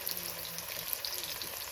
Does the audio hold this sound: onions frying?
yes